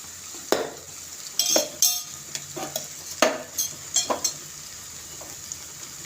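Chilli powder is stirred into a frying mixture in a pan while cooking spicy fish, with intermittent spoon scrapes and sharp clinks against the pan over a faint sizzle, close up and without talk.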